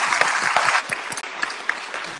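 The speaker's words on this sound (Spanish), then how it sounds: "Un aplauso para Cris, un aplauso para Cris." Crowd applause for guitarist Chris Rocha during an Instagram live interview, steady clapping that swells briefly and then tapers, with scattered sharp individual claps standing out near the end.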